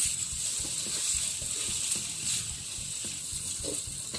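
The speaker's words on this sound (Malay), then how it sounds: "kita goreng" Noodles for mee goreng fry in a hot pan with a continuous, fairly loud sizzle, broken by the scrape and clatter of stirring.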